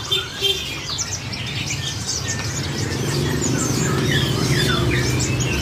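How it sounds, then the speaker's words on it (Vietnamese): Songbirds chirp and tweet continuously at a bird shop kiosk in Vietnam, many overlapping calls against a steady low background hum. "Chim đây, chim đây, chim rất là đẹp cả nhà."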